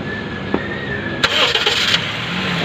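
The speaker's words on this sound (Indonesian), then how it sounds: "Pik, boleh starter Pik" A Honda car engine cranks briefly and catches, then settles into a steady idle, heard up close in a workshop during an automatic transmission fluid change.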